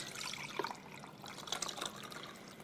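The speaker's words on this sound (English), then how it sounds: "I'm just gonna pour that in a measuring cup for the moment," Home canned chicken broth pours from a jar into a measuring cup, a soft, faint trickling splash with a few brighter drips, close and quiet with no speech.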